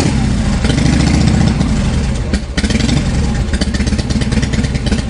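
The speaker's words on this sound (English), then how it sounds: "Try to start the engine again." An engine in a VR training simulation runs loud and close, a steady rough mechanical drone that briefly dips and then settles into a rhythmic idle.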